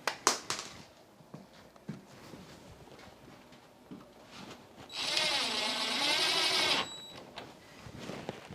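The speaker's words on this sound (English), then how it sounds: "I'm going to put the screws back in" A power drill drives screws back into a door hinge, first some handling taps and knocks, then a steady whirring motor run of about two seconds that winds down, close and loud in a quiet room.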